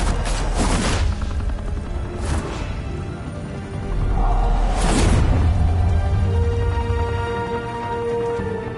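Gunfire in the Batman Telltale game, a steady loud wash of action noise broken by several sharp bursts of shots and booming impacts, dense and close with no clear pauses.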